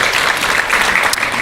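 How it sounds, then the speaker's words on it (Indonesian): Church congregation clapping during an Indonesian sermon, a brief, loud, continuous burst of many hands close by, with no one speaking over it. "Berikan tepuk tangan kita untuk Tuhan kita."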